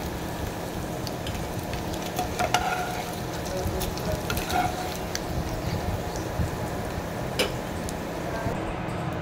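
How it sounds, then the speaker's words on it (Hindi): Paneer pieces frying in hot oil for palak paneer give a steady, dense sizzle with a few louder crackles and pops, continuous throughout, no voice over it. "ऑयल गर्म होने के बाद हम ये जो पनीर के पीस हैं वो थोड़े से इसमें फ्राई कर लेते हैं"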